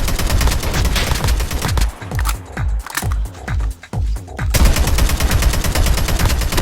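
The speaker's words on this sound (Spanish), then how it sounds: "se colocara detrás de esa roca y comenzara a dispararme" Sniper gunfire in CoD Mobile cracks in a rapid run of sharp, loud shots, with brief pauses between bursts and game noise filling the rest.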